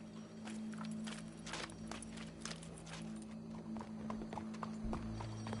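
A horse walking in the Red Dead video game, with rhythmic hoof clip-clops at moderate distance over a low steady hum, fairly quiet, without speech.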